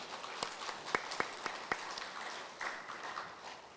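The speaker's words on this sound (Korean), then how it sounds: "여러분 큰 박수 한번 부탁을 드립니다" An audience at a Korean social welfare day ceremony applauds, a steady patter of many hands clapping at a moderate distance in a large hall.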